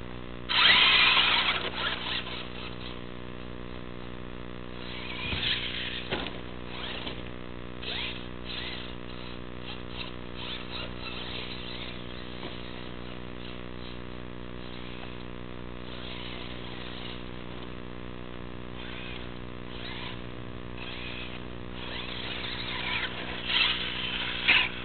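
A Traxxas brushless RC car motor, from a Slash or Stampede, revs in repeated high-pitched whining bursts with strong harmonic tones, loudest at the start and again near the end, with no talking.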